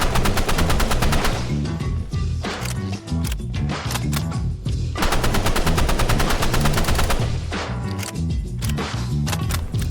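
Dense, continuous automatic gunfire from assault rifles in the video game Rivals, loud and rapid, with overlapping bursts and sharp cracks filling the whole stretch.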